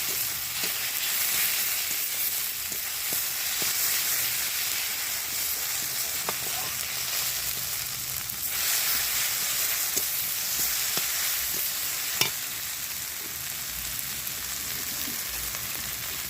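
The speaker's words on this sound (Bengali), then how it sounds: "এটা ভালো করে মিক্স করে নিই।" Chicken curry with potatoes sizzles and fries in oil while being stirred, a steady crackling hiss broken by a few sharp spoon or spatula clinks against the pan, with no talking.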